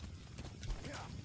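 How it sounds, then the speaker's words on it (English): Horse hooves clip-clopping at a gallop in the Metal Gear Solid V video game, a quick, faint rhythmic patter under game sounds and a voice talking over it. "I'm riding my horse until the sunset"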